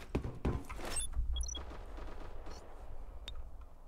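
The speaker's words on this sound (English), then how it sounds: "I'm shooting them through this gap" Gunfire in the online shooter Black Squad. Several sharp shots crack in quick succession at the start, followed by quieter scattered game sounds and a low rumble.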